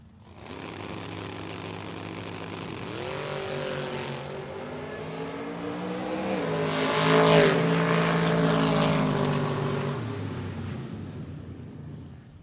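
Two drag racers, a pickup truck and a Mustang, launch at a drag strip, their loud engine roar rising and shifting through gears as the cars pass and fade, a steady high-powered blare throughout.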